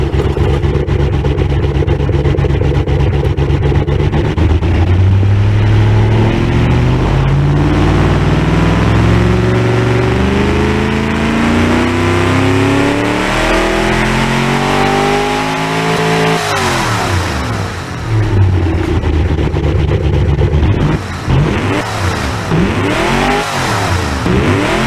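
A loud car engine in BeamNG.drive revs up and down repeatedly, pitch climbing and falling in long sweeps, with a brief drop before roaring again.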